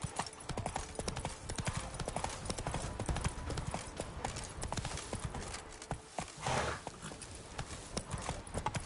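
Horse hooves in The Witcher 3 game, a continuous rapid clip-clop of galloping with occasional snorts or whinnies over background game sound.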